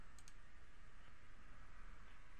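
A computer mouse gives a quick double click, faint and brief, over steady background hiss while someone works in mapping software.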